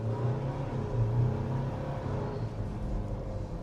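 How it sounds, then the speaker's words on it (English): A Ford Ranger Wildtrak plug-in hybrid pickup's engine pulls uphill under acceleration, giving a steady, fairly loud low rumble with a slightly rough, diesel-like drone that holds even throughout. "When you're going up a hill, it does sound a bit diesely there."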